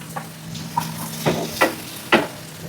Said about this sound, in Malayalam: നമ്മൾ പുളി കലക്കി വെച്ച വെള്ളം നമ്മളിതിലേക്ക് ആഡ് ചെയ്യാൻ പോവുകയാണ്